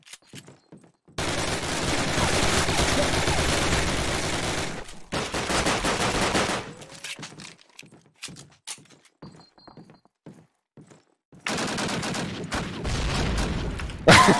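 Rifle gunfire from the World War II shooter Day of Infamy, played at night on maps such as Carentan, Railyard and Neuville: two long loud bursts of rapid shots, scattered single cracks, then another heavy volley near the end, with little talk.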